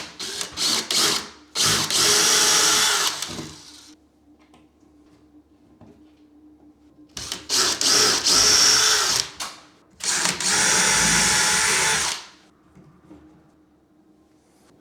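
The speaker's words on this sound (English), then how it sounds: "I'm barely letting the drill go up" A power drill whirs in several loud bursts of a few seconds each, separated by quiet gaps, boring up through a ceiling for a downlight up close.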